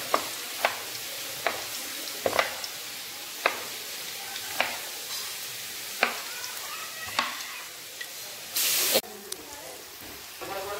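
Oil frying in a wok set on a gas stove, a soft continuous sizzle punctuated by regular sharp scraping stirs and a brief loud hiss burst near the end.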